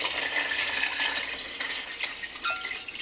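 Water pours into a soup pot for Puerto Rican salami soup, a continuous splashing gush that rises and wavers over about three seconds, close by and with no one speaking.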